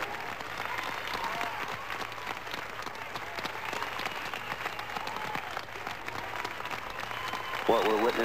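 Cheering and applause fill a mission control room just after the Apollo lunar landing, a steady dense wash of clapping and voices throughout, with a brief louder burst of voices near the end.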